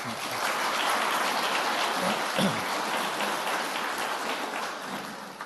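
Steady applause fills a room at a funeral service, a dense wash of clapping at even loudness with a faint voice briefly underneath, easing slightly at the end.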